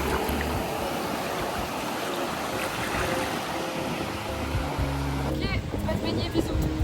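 Sea waves washing on a beach in Majorca, a steady loud roar of surf and rushing water, close by, with no voices in the clip.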